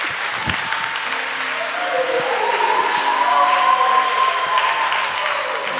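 Applause from a congregation during a church service, steady and fairly loud, swelling in the middle and mixed with a few voices and cheers.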